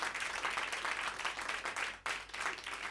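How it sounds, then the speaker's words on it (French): An audience applauds a singer and her musicians after a performance, a thick, steady roar of clapping from a crowd with a brief dip partway through, fairly quiet overall. "On l'applaudit bien fort."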